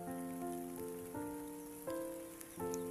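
Heavy rain falls steadily on a vegetable farm, making a faint, even patter that runs unbroken under soft, sustained music tones.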